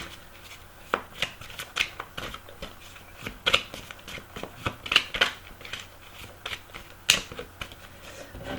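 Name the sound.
oracle cards being handled and laid down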